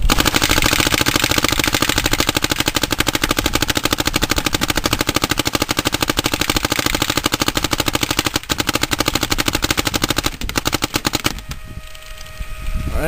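Dye DM9 paintball marker emptying a full pod in a loud, rapid, evenly spaced string of shots for about eleven seconds, then a brief quieter tail.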